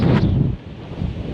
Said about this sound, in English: I picked a very windy day, so I apologize if there's a lot of wind noise